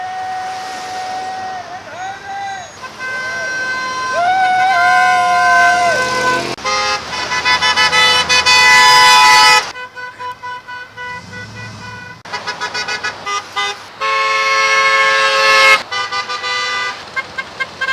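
Car and truck horns honk repeatedly during a Memorial Day drive-by, with long blasts and short toots in uneven bursts from passing vehicles, loud and near, while people cheer and call out between them.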